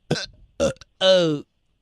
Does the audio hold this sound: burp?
yes